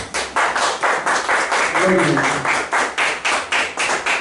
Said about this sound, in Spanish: Le damos una ofrenda de palmas a nuestro buen Dios.